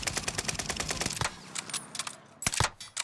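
An SMG fires at a vehicle in Warzone, first as a rapid, close burst lasting about a second, then as a few scattered louder shots after a short pause.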